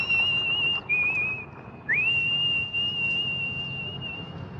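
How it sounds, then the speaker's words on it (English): A woman whistles the tune from the 1968 thriller Twisted Nerve, one clear, sustained melodic line that dips briefly twice before holding steady. "the tune she's whistling is taken from the 1968 thriller Twisted Nerve"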